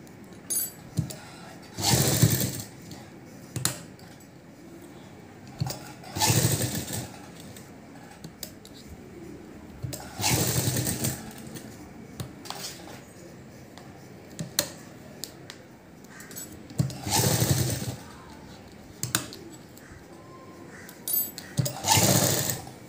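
A sewing machine stitches the back neck of a blouse in repeated whirring runs of several seconds each, stopping and starting, with pauses between runs and some talk in the gaps.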